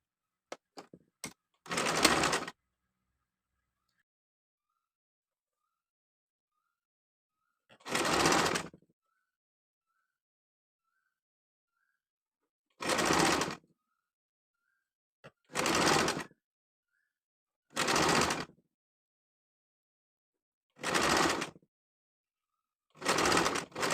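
Sewing machine stitching down the folded-under hem of a simple frock, in six separate bursts of rapid whirring, each about a second long and spaced by pauses, close and fairly loud with no talking.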